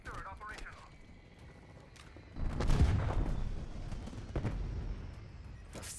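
Strafe run explosions hit in Call of Duty Black Ops Cold War multiplayer, a sudden loud burst of blasts and rumbling booms that keep echoing, with game voice lines and brief talk around them.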